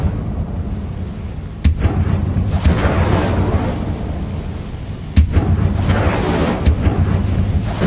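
Incendio fire spell cast in the Hogwarts video game: a loud rushing roar of flame with sharp cracks at the start, swelling and repeating a second time.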